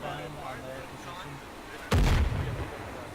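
An airstrike explosion in ArmA lands with one sudden, heavy boom that rolls off into rumbling debris, following a stretch of voices talking on the battlefield.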